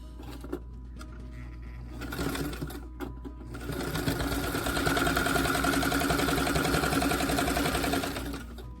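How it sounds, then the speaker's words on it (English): Sewing machine stitching a zipper bag: a steady, close mechanical whir that builds after a few brief starts and runs evenly before stopping. "I'm going to sew about 1/4 inch to 1/2 inch away from the edge."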